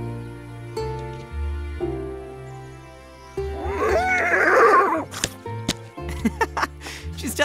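A cartoon horse lets out a loud, shaky whinny partway through, with music playing and voices before and after.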